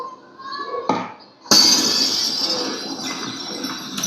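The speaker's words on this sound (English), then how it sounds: "You won't just hear glass break." A short tone, then a sudden loud crash of breaking glass followed by a long tinkling, scattering spill of shards.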